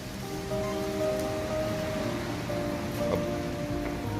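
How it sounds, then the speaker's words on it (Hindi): Rain falls steadily outdoors in Germany as continuous soft hissing noise with a faint hum beneath it, with no speech. "बारिश शुरू हो गई है"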